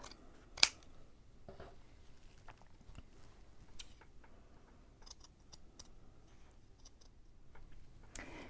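Scissors snip through doubled felt to cut out gingerbread shapes, with scattered quiet cuts and one sharper close snip, alone in a quiet room.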